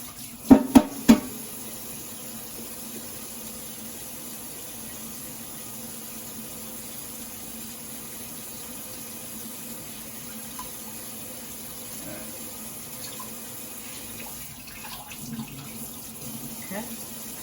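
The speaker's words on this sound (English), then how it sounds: "But I still rinse them off because I just don't like that film." Turkey wings are rinsed under a running kitchen tap, giving a low, steady stream of water after a few sharp clatters at the start, with occasional soft knocks near the end.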